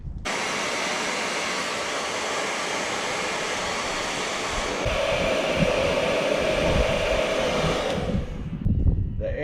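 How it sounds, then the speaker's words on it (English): A hair dryer blows hot air onto smoke tint film being fitted around the fog light of an 18-19 Ford Mustang GT, a steady close-up roar that shifts slightly in pitch midway before switching off near the end. "the heat hitting it from the hair dryer is making it conform and roll under the fog light"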